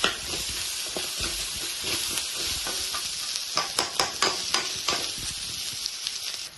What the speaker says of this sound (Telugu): అల్లం పేస్ట్ పచ్చి వాసన అంతా పోయే వరకు ఫ్రై చేసుకుందాం